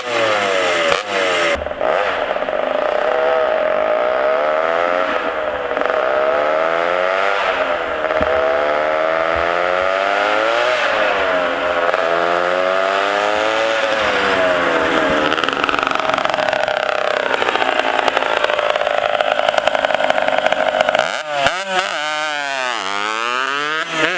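A two-stroke go-kart engine on a test drive revs hard, its loud, close, buzzing whine climbing and falling in repeated sweeps, dropping out briefly near the end and then revving up again.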